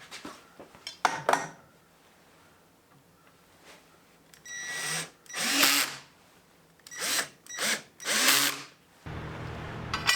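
A power drill countersinks screw holes in a wooden crosscut sled, several short whining bursts of a second or so each, separated by pauses and light handling clatter, close and fairly loud.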